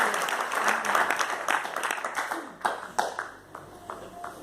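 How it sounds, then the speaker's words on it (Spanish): A church congregation applauds during a Spanish-language worship service, the clapping dense at first and then thinning into scattered claps as it fades. "Dale un aplauso a Dios"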